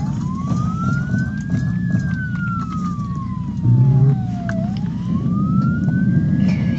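A police car siren in the Roblox game Jailbreak wails in a slow rise and fall over a rumbling engine, with a brief low thump partway through and no talking.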